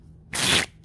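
Playing cards riffled together in one quick shuffle, a bright papery burst lasting about a third of a second in a quiet room.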